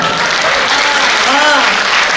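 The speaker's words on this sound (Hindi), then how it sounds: "एक बार 1:3 की तालियां बजा दो" An audience at a Hindi comedic poetry recital breaks into dense, loud applause that holds steady throughout, with a voice briefly audible underneath.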